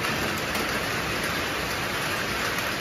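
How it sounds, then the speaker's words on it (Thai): Rain drums steadily on an uninsulated metal sheet roof, a dense, even hiss of countless drops striking the bare panels from close by, with no voices. "วันนี้ฝนตกครับก็เลยอยากให้เพื่อนๆนะครับได้ฟังเสียงฝนครับ"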